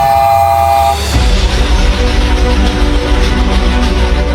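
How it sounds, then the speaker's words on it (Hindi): A four-chime whistle on a miniature toy train engine sounds a steady multi-tone blast, then gives way to loud, continuous chugging and mechanical clatter of the running engine, close and prominent with no talking. "इसको 4 चाइन विसल बोलते हैं।"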